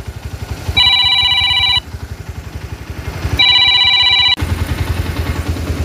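A phone rings in two long electronic bursts over the steady thrumming idle of a motorcycle engine, the tone loud and near, cutting in and out.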